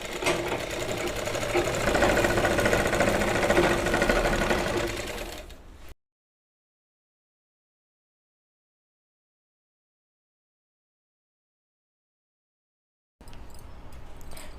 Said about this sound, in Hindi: यहाँ पे सिलाई लगा लेनी है।